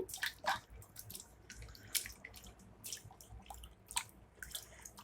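Potato slices for chips are rinsed under running water, with faint splashes, drips and bursts of trickling water in uneven spurts, quiet and close with no talking.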